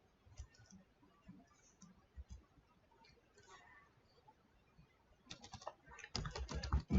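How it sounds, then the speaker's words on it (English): Computer keyboard typing while entering code, quiet scattered key taps at first, then a dense close burst of fast keystrokes near the end. "So let's just come in here and type in"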